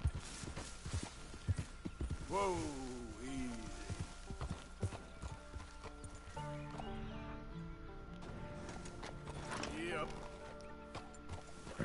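Horse hooves walking in the video game Red Dead Redemption 2: an irregular clip-clop of steps under someone talking, with a faint background ambience.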